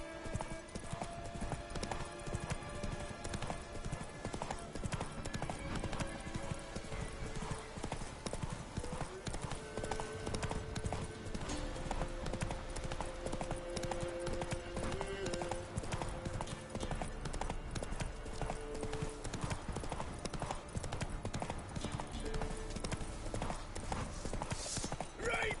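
Roach, a horse in The Witcher 3, clip-clops without pause for the whole span, hooves beating at a steady rhythm over a dense bed of game music and ambience, with occasional voices.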